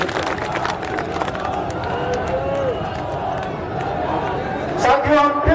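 A crowd at an outdoor political rally claps and cheers in a dense, continuous wash of noise, with a loud announcer-style voice and chatter mixed in throughout.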